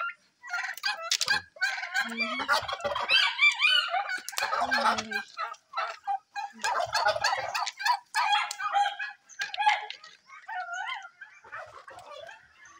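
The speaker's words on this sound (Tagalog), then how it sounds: "Ito lang yung pabo." A turkey gobbles repeatedly in loud, rapid bursts close by on a farm, with a dog barking among the calls.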